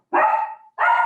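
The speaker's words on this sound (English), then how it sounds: "Excuse me, the dogs." Dogs bark twice, two loud, close barks separated by a short pause, with nothing else around them.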